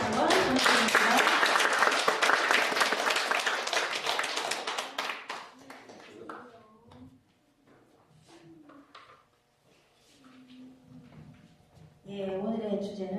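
Congregation at a Cheongdam prayer meeting breaking into loud, sustained applause that thins out after about five seconds, leaving quieter scattered sounds and low voices, with a brief burst of noise returning near the end.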